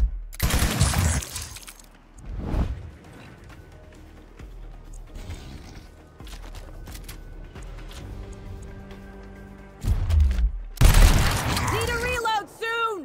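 Interruption shots fired in the turn-based game Gears Tactics, with loud heavy bursts at the start, a brief hit near the middle, and more heavy fire near the end, separated by quieter mechanical game sounds.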